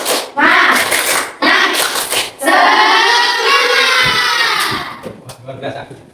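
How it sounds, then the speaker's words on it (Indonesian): A classroom of pupils claps a rhythmic spirit clap in loud bursts of hand claps, mixed with children's voices and shouting. "Tepuk semangat."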